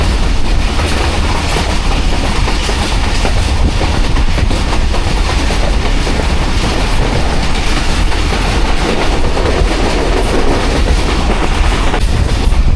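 The Awam Express rushes through a railway station, its wheels and carriages making a loud, constant rumbling roar close by, with no break or let-up throughout.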